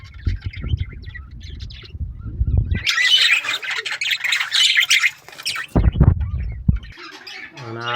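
Myna bird making loud, harsh squawks close by, in rough bursts with a few shorter chirps between them and no voices.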